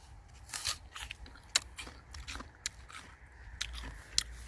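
A freshly picked red apple from a roadside tree is bitten and chewed up close, with a series of crisp, irregular crunches over a soft background hiss.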